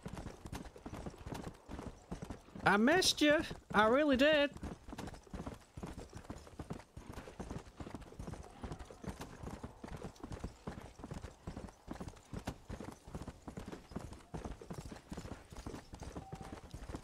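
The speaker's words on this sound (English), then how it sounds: "My silver-maned black horse." A silver-maned black horse in the video game Red Dead Redemption: Undead Nightmare, hooves clip-clopping in a steady fast rhythm throughout with a brief whinny, while someone talks over it.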